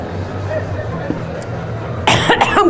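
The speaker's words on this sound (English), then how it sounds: "I'm coughing now" A man at a pottery and ceramics appraisal show coughs loudly and close twice in quick succession near the end, after a stretch of quiet room hum.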